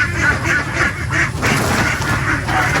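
A flock of ducks quacks steadily in overlapping rasping calls over a constant rough background noise, fairly close.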